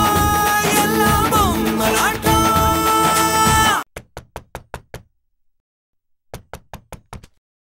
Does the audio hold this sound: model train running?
no